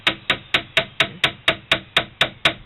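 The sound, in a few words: small hammer tapping pins into a knockdown box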